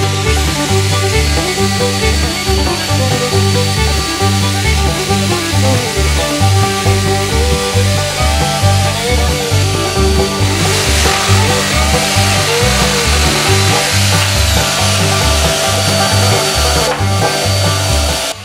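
Steady, continuous sawing through a wooden boat bulkhead along its baseline, close and loud for the whole stretch, with a repetitive low rhythmic pattern and no talk.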